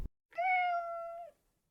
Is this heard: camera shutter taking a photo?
no